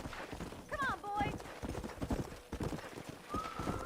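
Horse hooves clip-clop steadily in Red Dead Redemption as the animal moves along, with a neigh and whinny rising briefly early on and faint calls later, while someone talks over the rhythmic hoofbeats.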